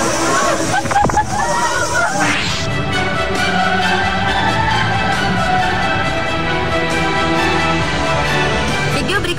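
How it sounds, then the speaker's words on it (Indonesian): Big ocean waves crash against the wall of a restaurant pool in Indonesia, a loud sloshing smash followed by continuous rushing water, with a crowd's babble and voices over it. "terlihat ombak besar menghantam dinding kolam yang juga menyatu dengan kolam renang"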